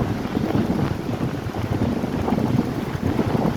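Steady wind buffeting the microphone on Fort Myers Beach, Florida, while riding a bicycle along the shore, with a continuous low rumbling roar and possible surf beneath it, no voices.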